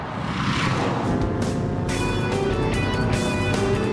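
A BMW 535d saloon drives a test track, its quiet diesel engine a steady, smooth hum with a subdued broadband rush of tyres and wind throughout, no voices heard.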